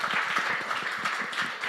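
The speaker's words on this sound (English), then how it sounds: "before we do the final clap" An audience applauds at the close of an all-candidates debate for Spadina-Fort York at the Centre for Social Innovation, a dense, steady patter of many hands clapping at once, fairly loud throughout.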